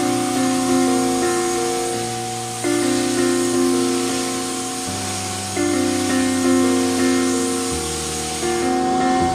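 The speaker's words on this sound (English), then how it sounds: "using this inexpensive but effective spray gun I got from the Tills Wall Company" Inexpensive electric paint spray gun spraying thinned latex paint onto a table, a loud continuous hissing spray over a steady motor drone whose pitch shifts slightly in steps, running the whole time.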